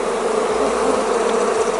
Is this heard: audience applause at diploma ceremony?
no